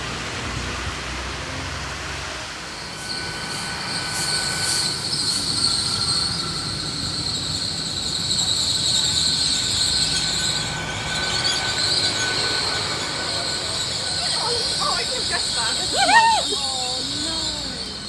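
A train to Cardiff Central pulls away from Highbridge and Burnham railway station with a steady electric whine and rising drone, wheels squealing near the end over constant rolling rumble.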